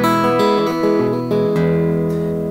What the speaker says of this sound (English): So this is the sound of my guitar. It's like a Strat type guitar